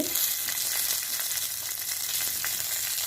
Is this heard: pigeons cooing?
no